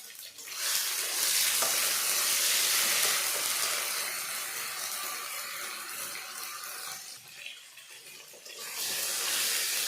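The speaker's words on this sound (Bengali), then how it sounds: "আমার টমেটোগুলো ভাজা হয়ে গেল" Tomatoes fry in a pan with a steady, bright hiss that softens slightly midway, then swells again near the end.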